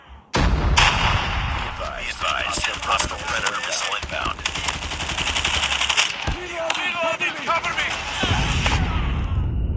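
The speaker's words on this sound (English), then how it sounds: "Oh, a missile." A missile explosion in a Call of Duty match, a loud blast opening a dense stretch of booming and gunfire, with a voice talking over the chaotic battle noise.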